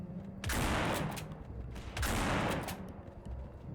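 Two loud bursts of rapid gunfire from the zombie shooter No More Room in Hell, each lasting about a second and a half with a short pause between them, with faint background noise.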